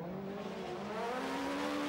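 A WRC rally car engine revs high during a stage of Rally Finland 2007, its tone climbing steadily and loud with no one talking.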